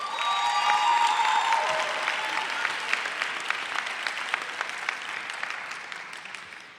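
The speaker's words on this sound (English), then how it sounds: "so please give yourselves a round of applause because you deserve it." Graduation ceremony audience applauding the graduates at Five Towns College, a full crowd of clapping with faint cheers, strongest at the start then gradually thinning into scattered individual claps.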